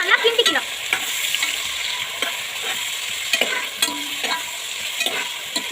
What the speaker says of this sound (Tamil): வெங்காயம் பச்சை மிளகாய் போட்டுட்டு அப்புறம் இதை நல்லா கிண்டிக்கலாம்.